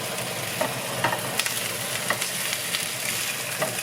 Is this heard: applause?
no